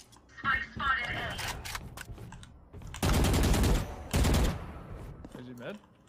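Valorant gunfire on the Icebox map comes as quiet scattered shots, then two sustained rapid bursts of automatic fire with short pauses between them.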